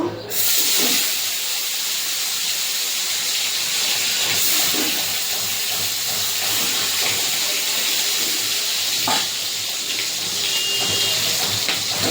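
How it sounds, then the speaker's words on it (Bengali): Steady, loud sizzling hiss of tilapia fish frying in hot oil in a wok continues throughout, with occasional faint crackles and no speech. "এইভাবে আমি সব মাছগুলো ভেজে নেব।"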